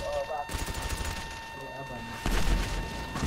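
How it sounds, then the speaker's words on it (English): A blast and crackling gunfire from a rocket launcher in a multiplayer shooter, loud and dense, with bursts of noise over background voices. "I just heard the rocket go off and it blew me up"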